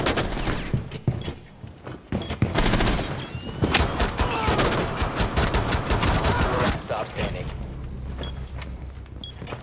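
Rapid gunfire in the shooter Rainbow Six Siege, with dense bursts of shots and crackling volleys that swell in the middle and then thin out, plus a few brief voices mixed in.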